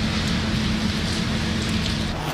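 Heavy rain pouring down in Lahore, a dense, steady hiss that holds at an even loudness throughout with no pauses or voices.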